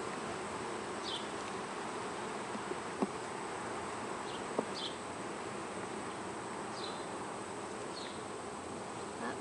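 Honey bees hum steadily around an opened hive during a brood inspection, a dense continuous drone with a few individual bees zipping past close by and occasional soft clicks of frames.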